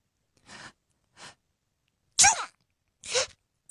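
A voice imitates a girl's stifled small sneeze, four short breathy bursts: two soft puffs followed by two sharper, louder snorts, close and alone.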